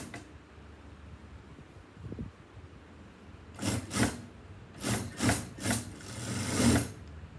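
A sewing machine stitches fabric pieces for a shoulder cape, running in several short, moderately loud bursts after a quiet pause, with faint handling noise in between.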